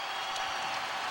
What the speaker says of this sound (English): Crowd on its feet now.